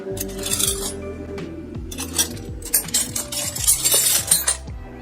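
Silver plate flatware, including a meat fork with a broken tine, clinks and clatters as pieces are handled and knocked together, with repeated close metallic chinks and rattles throughout.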